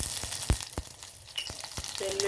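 Mustard, fenugreek and cumin seeds crackle and sizzle in hot tempering oil for a Telugu dal meal, sharp pops landing at irregular intervals over a steady frying hiss, close and moderately loud.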